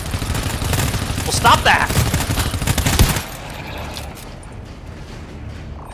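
Rapid gunshots in the co-op shooter GTFO, a loud, dense volley for about three seconds that cuts off abruptly into a quieter background, with a brief spoken shout during the firing.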